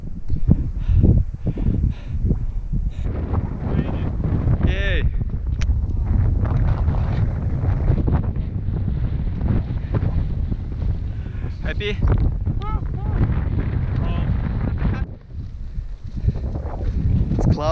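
Strong wind buffets the microphone in constant low roaring gusts on the summit of Mt Bogong, Victoria, in cold weather, with a voice speaking intermittently over it.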